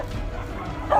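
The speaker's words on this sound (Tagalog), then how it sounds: "Tinatawalan pa ako ng aso." A dog gives one short bark near the end of a quiet moment outdoors, brief and fairly close against a low background murmur.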